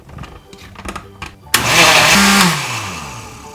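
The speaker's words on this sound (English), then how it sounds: "Okay, and then we just blend." A countertop blender whirs up a smoothie of peanut butter, cocoa and milk, starting abruptly after some light clatter, running loud and steady, then slowing and winding down.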